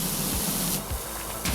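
Steady loud hiss of a pressure washer jet spraying a bungalow roof in the PowerWash Simulator video game, continuous close spray with a brief dip midway before surging again.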